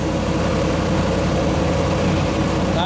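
A police car's LS V8, which has an engine noise and a dead cylinder, idles steadily right after start-up with a constant low rumble and vibration close by, and no one speaks.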